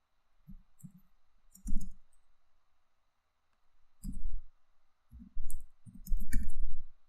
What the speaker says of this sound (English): So you can actually copy it in, but I'm just going to type it in.